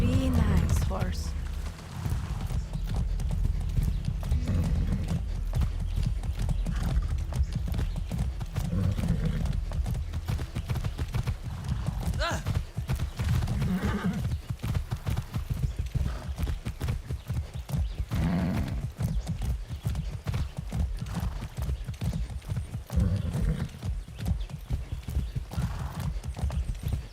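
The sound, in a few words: horse hooves and neighing in video game Far Cry 6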